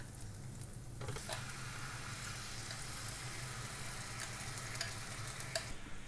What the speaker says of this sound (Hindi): पनीर को हम अच्छे से इसमें पका लेंगे जिससे अच्छी तरह से वो सिक जाए।